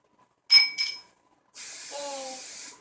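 Hairspray hisses onto a side-swept ponytail in a few quick bursts: two short puffs, a pause, then one longer steady spray lasting about a second, close and moderately loud with faint tonal ringing underneath.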